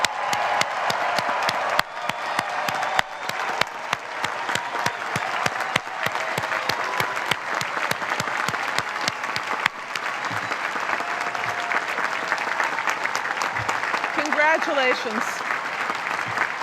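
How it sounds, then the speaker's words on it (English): Sustained applause for standing graduates at the University of Pennsylvania commencement ceremony, a continuous crowd of clapping with scattered cheers, while a voice offers brief congratulations over it. "We want to applaud your achievements."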